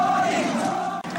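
A large crowd in Manila cheers and roars loudly as Marcos falls, a dense wall of shouting voices that dips for a moment near the end.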